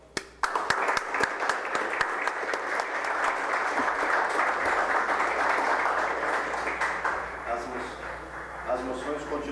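Sustained applause fills a city council chamber during a municipal session in Criciúma, dense steady clapping from many people lasting several seconds, with a few murmured voices as it tapers off.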